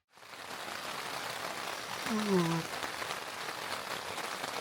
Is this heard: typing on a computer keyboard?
no